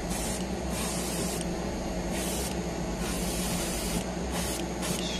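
Bursts of spray paint hiss from a can onto a La Ferrari plastic model kit, close and steady, several short sprays separated by brief pauses.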